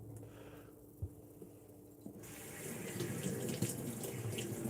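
Tap water running into a sink while water bottles are washed, a soft trickle at first that swells into a louder steady gush with splashing.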